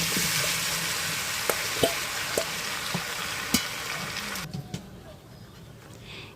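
Marinated mutton frying in hot mustard oil gives a dense, steady hiss with a few sharp pops and spatters, then the sizzle drops away to a quieter simmer near the end.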